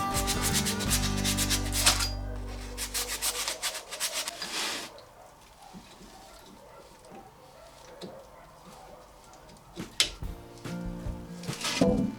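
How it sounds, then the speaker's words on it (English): Harsh rhythmic rubbing and scraping of sandpaper on glazed rear drum brake shoes of a Smart Fortwo, loud in bursts at the start, then quieter intermittent strokes with a few sharp scrapes near the end. "Now I'm sanding the shoes to remove the shiny layer made from the fluid combined with dust."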